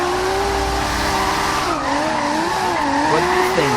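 A Nissan Silvia S15 with an RB26 engine swap drifting in the racing game Forza Horizon 2, loud sustained tire squeal wavering in pitch over a steady engine drone, no talking.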